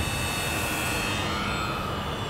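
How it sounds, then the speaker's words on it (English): A steady high-pitched engine whine of a Dynam Sbach 342 aerobatic RC plane in flight, constant and fairly faint over a broad rushing noise. "right now I'm just giving you guys a quick preview of how this plane flies"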